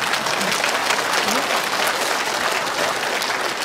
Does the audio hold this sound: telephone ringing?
no